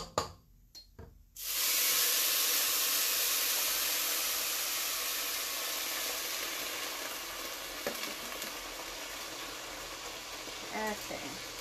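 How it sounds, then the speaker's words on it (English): Fideo noodles in a pan give off a loud, steady sizzle with steamy hiss as water is poured in during Tex-Mex cooking, starting abruptly after a short quiet stretch and holding strong throughout, with faint clinks late on. "You're gonna hear a lot of sizzling."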